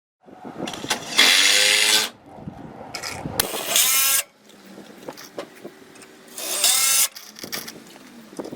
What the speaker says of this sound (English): Now screw 2 brackets on the outside of the frame on the hinge side.